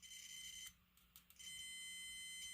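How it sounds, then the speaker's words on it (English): Multimeter continuity tester beeping while probing an N64 Conker's Bad Fur Day cartridge that won't boot, a steady electronic tone that cuts off briefly, flickers in short bursts, then resumes and holds until the end. "I should get a beep"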